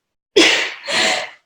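A single loud, close sneeze with a sharp burst that fades into a trailing exhale, followed by a second breathy sound, with no one talking.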